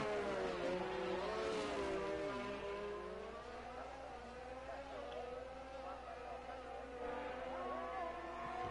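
Formula 1 cars battling at the Canadian circuit in a racing video game, heading into the chicane: a high-pitched engine whine rises and shifts with several overlapping harmonics, fairly quiet and continuous.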